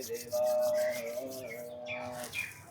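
Two palms rubbing together during a yoga session, a soft dry swishing friction heard faintly under a background tone, with no talking.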